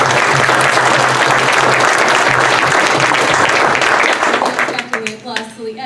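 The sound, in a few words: audience applause at a forum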